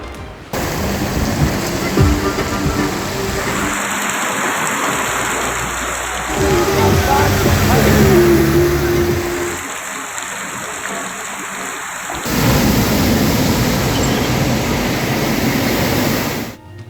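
Heavy storm rain pours down during severe weather in Balochistan, Pakistan. A dense, loud, continuous roar of rainfall fills the scene with deep rumbling beneath, while a narrator's voice speaks over parts of it.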